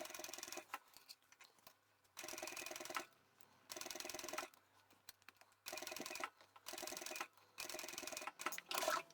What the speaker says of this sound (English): I'll go back to where the seams join, sew across that, and then sew down the other side.